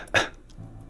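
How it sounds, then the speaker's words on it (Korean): A single short, sharp cough, brief and close, followed by quiet breathy noise. "기침을 해요 막"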